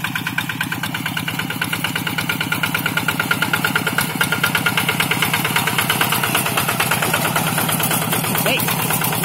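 A two-wheel rice field tractor engine idles nearby, a loud, rapid and steady mechanical chugging that holds constant, with people talking over it.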